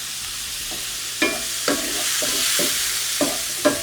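Scallops sauté in a hot pan for an ALDI-ingredient risotto, a steady sizzle running throughout while a utensil scrapes and stirs them in several distinct strokes.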